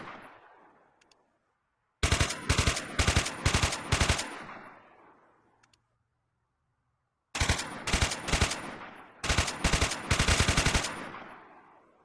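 Bursts of rapid automatic weapon fire from a video game weapons mod with select-fire modes, two loud volleys of fast repeated shots each lasting a couple of seconds, separated by quiet gaps with fading echo tails.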